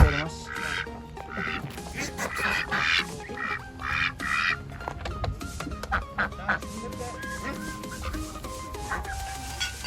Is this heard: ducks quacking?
yes